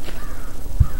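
A video game crow caws once, close and clear, against a quiet background.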